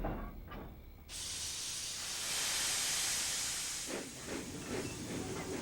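Percy the toy steam engine from Thomas & Friends arriving, letting out a loud sustained hiss of steam after a brief quieter start, followed by a few softer puffing bursts as the hiss fades.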